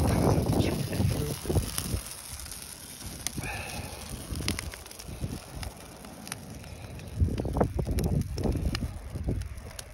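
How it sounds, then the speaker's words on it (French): Strong wind buffets the microphone in loud, rough gusts, easing in the middle before surging again. "Vous voyez qu'il y a beaucoup de vent aujourd'hui"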